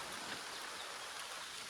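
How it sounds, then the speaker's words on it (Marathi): Rain falling on a jungle trek near a tunnel and waterfall, a soft, steady hiss of drops on leaves and ground, faint and continuous, with no voices. "पाऊस पण आला."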